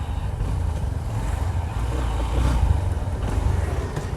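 A Honda SP125 BS6 motorcycle accelerating through city streets, a steady low engine drone with rushing wind noise that swells slightly midway, heard from on the bike.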